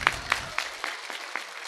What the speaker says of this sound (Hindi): एक बार जोरदार ताली गुरुजी को।